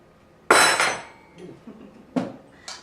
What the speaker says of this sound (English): we're going to take our knife, and we're going to hit the seed of the avocado a few times, gently, and twist